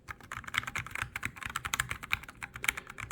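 Typing on an EPOMAKER TH96 mechanical keyboard: rapid, crisp keystroke clacks in an uneven stream, close and fairly loud, with no voice.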